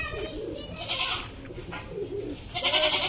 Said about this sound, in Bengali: এই যে এগুলো ছাগল